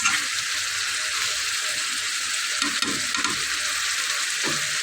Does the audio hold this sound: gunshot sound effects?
no